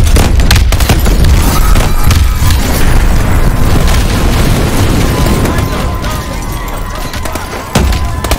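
RPG explosion in Call of Duty Advanced Warfare, a loud, heavy boom with deep rumble amid ongoing gunfire, under shouted voices of soldiers in combat.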